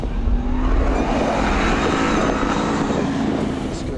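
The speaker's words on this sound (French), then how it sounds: "vous allez l'entendre, la sonorité du moteur qui est tout simplement magique" The 5-litre Ford V8 of a Mustang Bullitt rumbles loud and close in a steady, full-bodied drone with some wind buffeting, and nobody talks over it.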